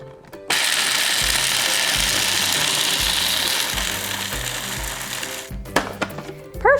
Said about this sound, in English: With the other half of the pistachios, we're gonna powder them in the food processor.